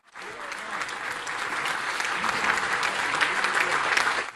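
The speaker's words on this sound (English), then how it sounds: "Give a big Sandown, New Hampshire round of applause." Sustained crowd applause at a Donald Trump town hall rally in Sandown, New Hampshire, a dense, steady roar of clapping that rises quickly and holds loud throughout with a slight swell toward the end.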